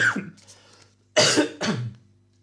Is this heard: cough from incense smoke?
yes